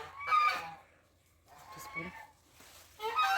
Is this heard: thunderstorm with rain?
no